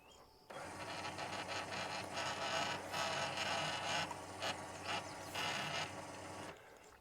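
Camper leveling jacks on a broken camper run in one continuous mechanical grinding and creaking drone, steady and fairly loud for about six seconds with intermittent ratcheting clicks, then cutting off.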